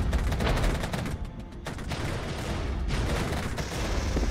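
Artillery strike in the war game Regiments: a dense barrage of booming blasts and crackling gunfire rolls continuously, loud and near, with brief dips between volleys and no talk.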